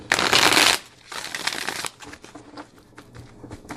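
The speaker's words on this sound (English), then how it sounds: "Let's just give it one good shuffle so I make sure it's nice and shuffled" A deck of tarot cards is riffle-shuffled close up, a loud burst of rapid flicking followed by a second riffle and then softer scattered card taps and slides.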